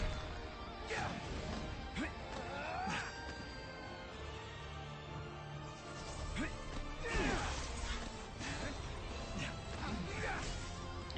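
Combat in Final Fantasy XV, with Ignis fighting Noctis, brings a series of sharp clashing hits and whooshing swings at irregular intervals over a low game backdrop.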